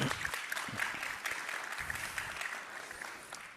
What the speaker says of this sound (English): A big round of applause for our lovely panel here.